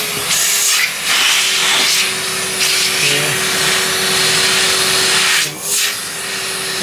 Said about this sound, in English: So now let's hoover the dust in this PC using a vacuum cleaner.